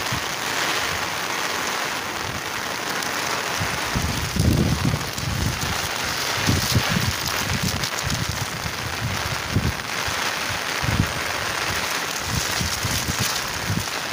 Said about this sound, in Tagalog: aantayin na lang natin na titila yung ulan